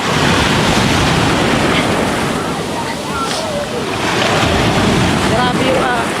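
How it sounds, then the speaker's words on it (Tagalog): Strong sea waves at Finale Ligure, Italy, surging and breaking in a loud, continuous wash with heavy wind buffeting the microphone. "Lakas ang alon, guys."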